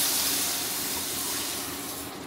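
Water hits a hot pan of roasting broken wheat and sizzles into a loud, steady hiss that fades slightly.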